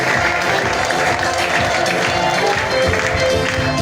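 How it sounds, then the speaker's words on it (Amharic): A church congregation claps loudly for the Lord at a prophet's service, a dense, continuous wash of hands with faint crowd voices mixed underneath, sustained at an even level from start to finish. "ለጌታ አጨብጭቡ ሃሌሉያ"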